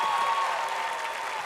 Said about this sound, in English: give her a round of applause for being a super mom